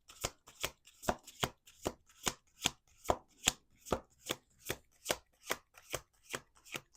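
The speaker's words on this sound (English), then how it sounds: "Let's do two more shuffles." A deck of cards is riffle-shuffled repeatedly on a table in sharp, evenly spaced bursts. About twenty crisp flutters follow one another in a steady rhythm, close and clear, with no talk.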